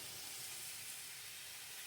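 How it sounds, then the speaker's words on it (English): Potatoes boiling in a pot on a stove give a steady, close hiss with a soft bubbling rumble underneath, continuous and unchanging throughout. "Now that they're boiling, I'm gonna let them."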